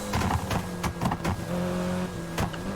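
A Mitsubishi Evo's exhaust in Need for Speed Heat blares steadily up close, with a sustained engine drone and a few choppy blips as the revs shift.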